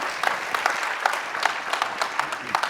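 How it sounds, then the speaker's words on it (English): Applause from a conference audience at a business and data summit as a speaker comes on stage, steady mid-level clapping with scattered sharper claps throughout. "I think this is the biggest applause I ever had"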